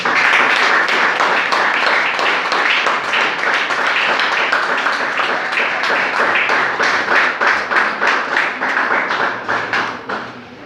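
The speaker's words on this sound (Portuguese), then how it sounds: "Aplauda o Senhor porque Ele merece." A church congregation claps together in a fast, sustained rhythm, loud and close, tapering slightly toward the end.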